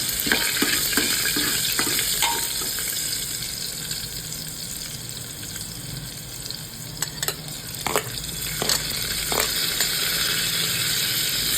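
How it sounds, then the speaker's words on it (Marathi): Garlic and one or two green chilies sauté in hot oil with asafoetida for a simple moong dal, a steady close sizzle with scattered clicks and scrapes of a spoon stirring the pan, no talking. "आपण ॲड करूया लसूण आणि 1-2 मिरची. छान असं परतवून घ्या तुम्ही."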